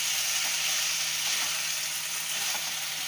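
Capsicum rice being mixed while it fries in a pan: a loud, steady sizzle with soft scraping stir strokes recurring every second or so, no voices.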